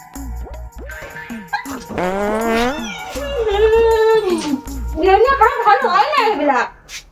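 A dog yelping and whimpering in short bursts with whiny, pitched cries, close by, mixed with people talking and a voice.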